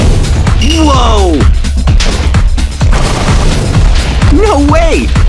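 An evolved diamond bow in Minecraft firing repeatedly, producing loud booming impacts in a rapid, almost continuous volley, with excited voice exclamations over it.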